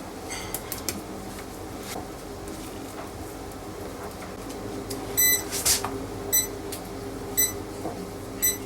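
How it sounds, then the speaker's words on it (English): An air quality meter gives short electronic beeps in bursts, repeated several times over a low steady mechanical hum, fairly quiet in the background. "The beeping you could hear in the background there is my air quality meter"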